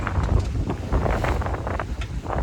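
Wind of about 17 to 18 knots buffeting a sailboat under a reefed mainsail, a continuous low rushing roar with gusty swells and faint rustling, no talk.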